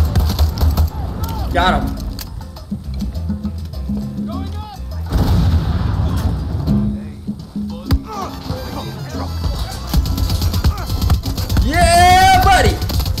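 Gunfire in the Far Cry 6 video game rattles through a combat scene in bursts, with heavy impacts and explosions, while a player talks excitedly over the action.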